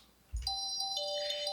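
Synth melody with a delay effect, bright bell-like tones that enter sharply after a low thump and ring on, the echoes adding extra repeated hits, moderately loud, no voices.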